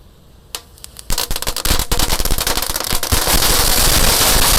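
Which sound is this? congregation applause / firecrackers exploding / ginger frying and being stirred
firecrackers exploding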